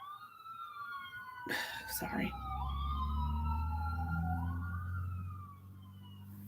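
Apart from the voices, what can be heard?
ambulance siren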